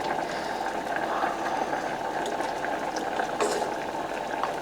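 Hot water in a pot, used for blanching a tomato, bubbles and seethes steadily and fairly close, a continuous busy simmer with small pops and clicks throughout.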